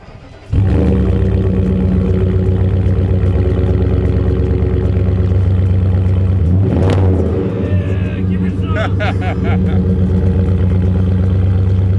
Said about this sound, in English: I've got the MagnaFlow exhaust, which sounds really awesome.